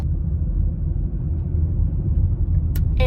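A car rolls steadily through a tiny small-town community, its low engine rumble and road noise constant and close, with a brief chirping sound near the end.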